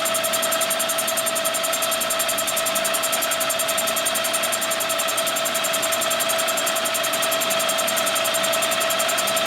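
Boring bar taking a light cut inside a 1958 Harley-Davidson panhead 74ci FL cylinder, a steady machine whine with a sustained tone holding evenly throughout, close and alone.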